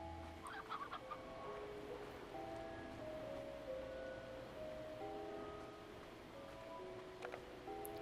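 Painted hens cluck softly in the Slime Rancher video game, scattered short clucks and chirps over a continuous wash of ambient game sound, fairly faint and steady, no talking.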